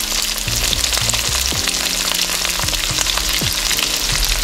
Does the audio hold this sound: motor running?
no